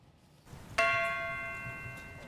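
A single memorial bell rings once, struck clearly and then left to hum and fade slowly over a quiet background.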